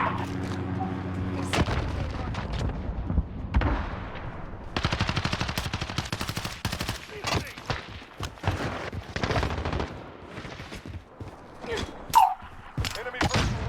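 Sustained gunfire in a first-person shooter video game, with rapid automatic bursts, heavier booms and scattered shots running throughout, loud and close, and someone talking at moments over the shooting.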